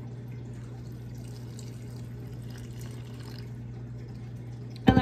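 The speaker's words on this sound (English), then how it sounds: "I'm gonna pour in probably 1/2 cup." Hot water poured from a cup into tortilla flour, a soft, steady trickle and splash over a low constant hum, ending with a short louder clatter.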